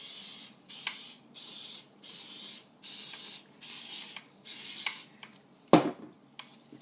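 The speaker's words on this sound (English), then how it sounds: "Another little spray." Seven quick bursts of cooking oil spray hiss in a steady rhythm onto a pie maker, close up, followed by a metallic clunk and a few faint clicks.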